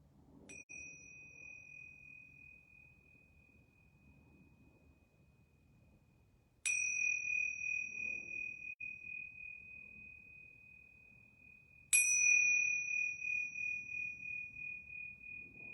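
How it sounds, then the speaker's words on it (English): Three yoga bells ring one at a time with long pauses between them, each a clear sustained chime that slowly decays in a quiet room. "I'm going to ring these yoga bells 3 times."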